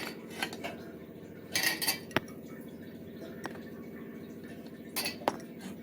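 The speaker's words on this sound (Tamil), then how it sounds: "ஸ்பூனை வச்சு அப்படியே நம்ம அமுத்தி அமுத்தி விட்டோம்னாக்கா சரியா." Metal spoon scraping and pressing a thick halwa mixture through a strainer, with several sharp clinks and scrapes against the mesh and bowl over a quiet background, close and fairly faint.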